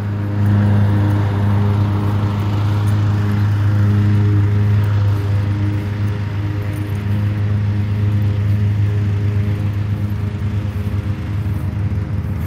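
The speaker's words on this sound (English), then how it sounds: "My daughter riding the first Harley she's ever rode without me riding her" A Harley-Davidson motorcycle ridden by a learner, its engine giving a steady, loud low rumble that holds nearly constant throughout with slight fluctuations and no talk.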